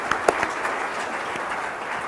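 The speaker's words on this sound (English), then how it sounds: "you owe him a round of applause." Conference audience breaking into applause, a dense wash of clapping with a few sharper claps near the start, steady and moderately loud throughout.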